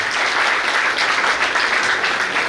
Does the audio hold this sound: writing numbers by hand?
no